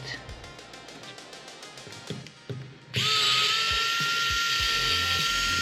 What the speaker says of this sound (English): We need to take out